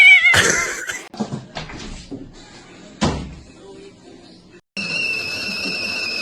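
A cat meows loudly in short bursts amid knocks and a door-like bang, with other indoor noises in between.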